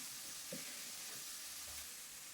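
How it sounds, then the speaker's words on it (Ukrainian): Chopped onion sizzles in a frying pan just used for cooking fish, a steady close hiss and crackle running throughout with a few soft stirring clicks. "Відразу після рибки смажу на цій же сковороді цибульку."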